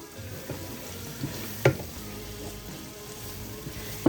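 All-purpose flour stirred into Swiss steak in a frying pan, a soft continuous sizzle broken by a few sharp clacks of a utensil against the pan, with no talking.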